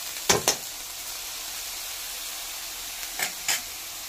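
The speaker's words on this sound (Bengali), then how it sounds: "একটু ভাজা হোক" Bottle gourd peel frying in a pan without onion or garlic, a steady close hiss with a few brief louder sputters near the start and end.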